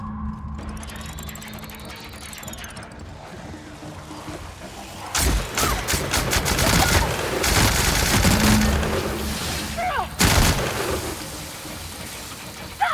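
Gunfire in The Outer Worlds comes as a mechanical whir and then clusters of sharp shots and rapid bursts, loud and close, with a few scattered single reports.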